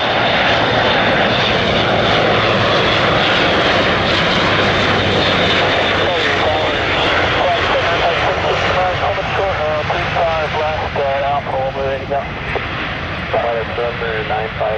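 Large military transport aircraft, such as an A400M, C-17 or A330 MRTT, roar steadily nearby at a commercial airport, a loud continuous engine drone filling the whole clip while radio-like voices talk over it.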